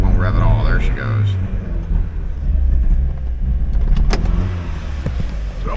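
A 2002 Mazda Miata engine runs but fails to rev, giving a low, uneven rumble with wavering tones near the start. A voice talks over it at times.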